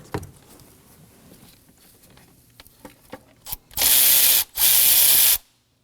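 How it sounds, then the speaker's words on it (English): A hand ratchet removes a 10mm bolt from the exhaust variable valve timing solenoid of a 2016-2020 Kia Sorento 2.4L, a few faint clicks followed by two loud, close, sustained ratcheting bursts. "you're going to locate this 10mm bolt that's over here"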